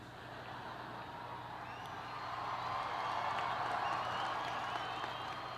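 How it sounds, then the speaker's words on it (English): A large university graduation crowd cheers and applauds in a big hall, a faint, distant wash of clapping and whoops that swells midway and holds, without speech. "that shouldn't get such a big cheer."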